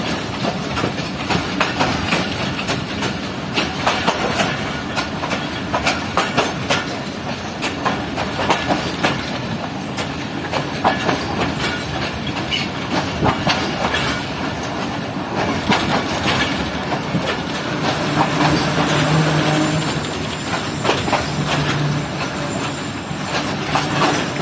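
A long passenger train rolls along in the rain, heard from inside the rear coaches: a steady rumbling roar with rhythmic clickety-clack of wheels over rail joints and rattling carriage creaks throughout.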